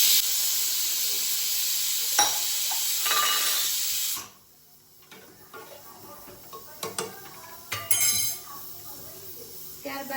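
Stuffed brinjal and potato curry sizzles loudly in a pan for several seconds, then drops sharply as water is added, leaving softer bubbling with scattered clinks of a spoon against the vessel.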